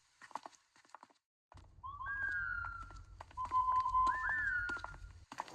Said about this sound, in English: what's that weird whistling noise?